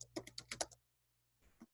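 Keys clack on a computer keyboard while layers are renamed in After Effects: a quick burst of several sharp taps, a pause, then one or two more presses, close and crisp with no voices.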